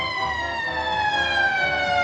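A police car siren wails steadily and loudly in a cartoon scene, its harmonic tone sliding gradually downward while a low engine rumble pulses underneath.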